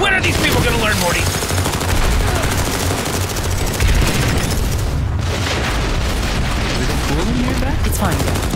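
Gunfire in PlanetSide 2 runs dense and loud throughout, with rapid automatic bursts, heavy booms and battlefield clatter layered together, and a voice speaks briefly over the fighting.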